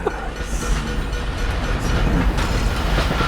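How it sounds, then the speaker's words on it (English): A train rumbles by in the stealth game Dishonored: The Knife of Dunwall, a steady, loud, rough mechanical rolling noise that builds slightly over a few seconds, with no talking. "Is that a train?"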